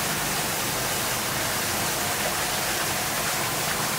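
An artificial waterfall at a jungle and tropical themed mini golf hole gives off a steady, full rush of falling water. It is close and constant throughout, with no voices.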